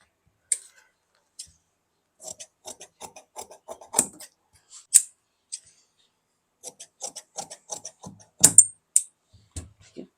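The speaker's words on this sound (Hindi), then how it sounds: "प्रिंसेस काट लेते हैं, फिर उसके बाद हम बेल्ट काटेंगे" Scissors snip through blouse lining fabric in a series of short, crisp cuts at an irregular pace, close up in a quiet room while cutting a princess-cut blouse.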